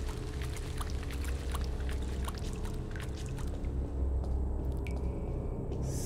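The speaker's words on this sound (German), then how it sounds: "So ein Regen, Höhlenregen." Rain dripping inside a cave in the horror game The Land of Pain, a steady patter of scattered drops and trickling water over a low ambient drone, with no voices.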